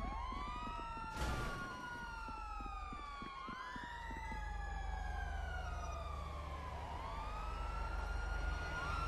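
A wailing ambulance siren in the video game GTA V rises and falls repeatedly over a low rumbling background, with a brief burst of noise early on; no talking.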